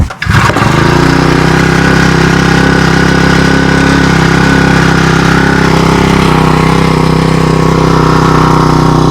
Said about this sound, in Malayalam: ഈ കാണുന്ന ഈ ഒരു നൂലാണത് ഇത് വെച്ചിട്ട് ജസ്റ്റ് ഒന്ന് വലിക്കാം